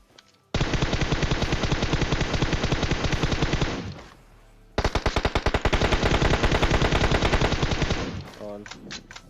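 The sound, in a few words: gunfire in the video game PUBG Mobile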